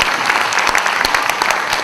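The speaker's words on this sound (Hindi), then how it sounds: "ज़रा ज़ोरदार तालियां होनी चाहिए." Enthusiastic audience applause at a bank's platinum jubilee celebration, a dense, loud, steady patter of many hands clapping at once, close and continuous throughout.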